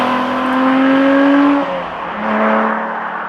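Lotus Exige Sport 350 engine pulling hard while driving, a loud, raw rising drone with a brief dip as it shifts before climbing again, close and steady with no talking.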